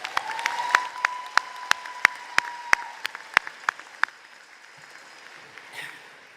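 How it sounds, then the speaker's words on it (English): Applause from a commencement ceremony audience, with a run of sharp, evenly spaced claps standing out over a background tone, fading toward the end. "Can we give them another round of applause?"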